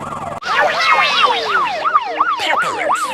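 A cartoon police car siren sound effect from Peppa Pig wails loudly in repeated rising and falling sweeps, starting abruptly and running steadily for about three seconds with no voices.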